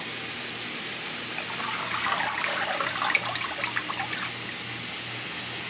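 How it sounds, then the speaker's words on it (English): Water splashes and gushes in a kitchen sink as washed kale is drained. A steady close rush swells in the middle and then settles back into a softer trickle, with no voices. "we want to go ahead and drain our kale."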